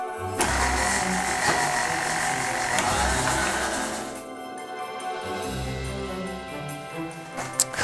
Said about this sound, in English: You want to whisk it for a couple of minutes until it's nice and fluffy.